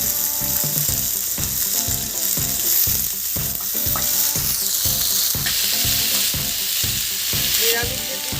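Cucumber pieces go into hot tempering spices in a pan, giving a loud, continuous sizzle with rhythmic scraping and stirring strokes of a spoon against the metal.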